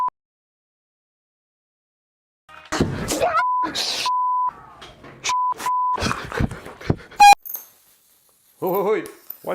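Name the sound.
alarm beeping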